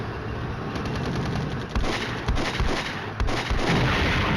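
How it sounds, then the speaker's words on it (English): Artillery and heavy gunfire in Flashpoint Campaigns: Red Storm, a Soviet tank battle. A constant rumble of battle noise is punctuated by loud booming impacts and bursts at irregular intervals. "I'm just hoping that my on-call artillery can do the job."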